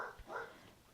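A pet dog gives a brief, faint bark and whine indoors, a short yelp followed by a softer whimpering tone.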